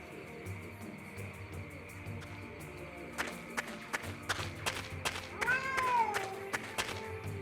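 Inside the Secret Files adventure game, a cat meows once, a short drawn-out call near the end, amid a series of sharp clicks and taps over a low background hum.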